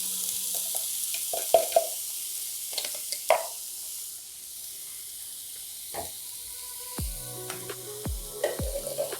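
Grated carrot cooks over low heat in a pan for carrot halwa, a steady soft sizzle and hiss broken by scraping, clicking stirs, with no voices.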